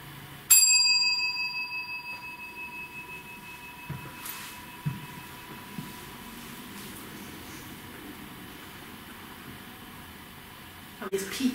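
A single bright bell ring sounds in a hotel near the start and then fades away slowly over several seconds, leaving a quiet room with faint background hum.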